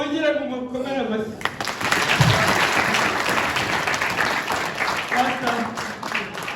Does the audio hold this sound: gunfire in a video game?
no